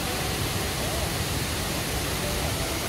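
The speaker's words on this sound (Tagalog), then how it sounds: "Puro fountain ang makikita mo dito." Water fountains in Spain splash steadily, giving a continuous broadband rush of falling water with no breaks, fairly close and even in level throughout.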